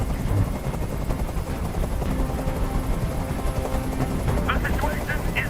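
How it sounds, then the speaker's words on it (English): Helicopter noise in a video game, a loud steady rotor drone with bursts of gunfire mixed in, running under spoken dialogue throughout. "I can't stand that noise anymore. Tell that helicopter to get out of here."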